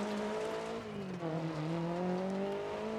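Rally car engine in DiRT Rally droning at steady high revs with a harmonic tone that dips briefly then climbs again, close and continuous with faint tyre and gravel noise beneath, no talking.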